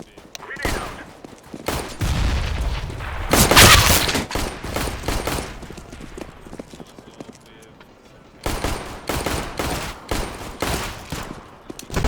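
A grenade thrown and exploding in CS:GO during competitive play, heard as a loud blast amid scattered gunshots and bursts, with pauses between volleys and more shooting near the end.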